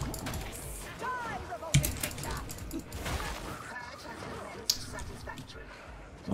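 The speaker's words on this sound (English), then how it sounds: "I hear a dog." A dog barks and whimpers in short bursts at a moderate distance, with people talking and clattering noises around it.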